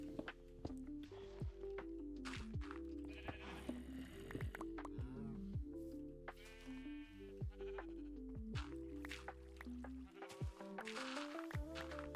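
Sheep bleat again and again in a survival video game over a steady, busy backdrop of game music, with some soft stepping sounds mixed in.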